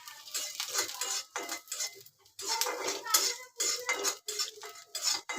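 Black pepper and cloves are dry-roasted in a pan, their stirring producing close, clattering rattles and scrapes in short bursts separated by brief pauses.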